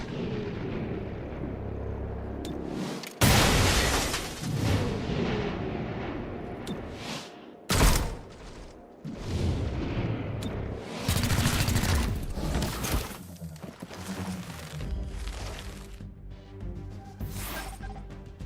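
Bursts of gunfire and explosive blasts in XCOM: Chimera Squad, dense rattling volleys punctuated by several sharp, loud impacts, with short gaps between firefights.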